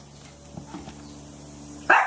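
A dog gives a single sharp bark near the end after a few faint yips, the bark loud and close against a quiet background with a low hum.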